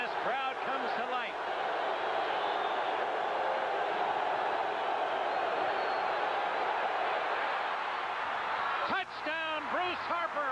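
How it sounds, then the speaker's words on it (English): Loud, roaring football stadium crowd cheering at a 1983 Jets vs. Browns game as a touchdown drive nears the end zone, a dense swell sustained throughout with an announcer's voice cutting in briefly at the start and again near the end. "this crowd comes to life"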